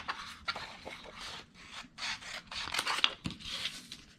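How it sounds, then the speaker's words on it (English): Decorative paper being trimmed with scissors while making a custom phone case cover, a close run of crisp snips and rustling paper scrapes in uneven bursts, with no talking. "So I'm going to trim this out."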